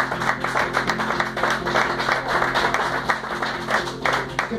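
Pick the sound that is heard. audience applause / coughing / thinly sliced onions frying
audience applause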